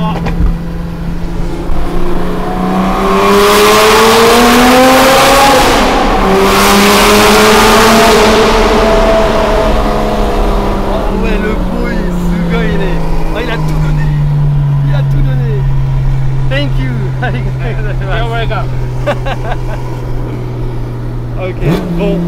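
A Porsche RWB drives through a tunnel, its engine droning loud and close as it revs up then settles into a steady lower pitch, echoing off the walls, with voices talking over it.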